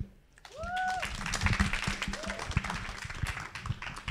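A small group applauds a guest, Mutua Matheka, at a fireside chat, a moderate patter of hands that starts after a brief pause and carries on steadily, with a short whistle or squeak near the start.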